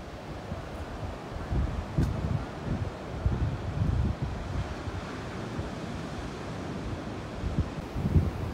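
Strong surf at an Australian beach after a storm, a constant, loud roar of breaking waves mixed with wind buffeting the microphone, steady throughout with small surges.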